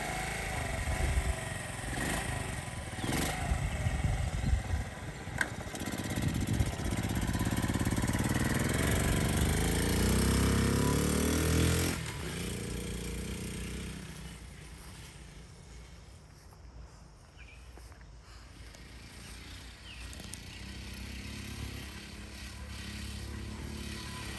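A 1973 Honda Z50 Monkey Bike's small engine fires after a kickstart on a cold start, revving loud and close at first, then settling into a quieter, steady idle that continues to the end.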